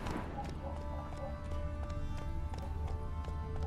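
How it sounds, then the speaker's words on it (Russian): Horse hooves clip-clop at a steady trot in The Witcher 3, a close, regular series of hoof strikes over ambient game background with no talking. "А можно было просто подъехать на лошади?"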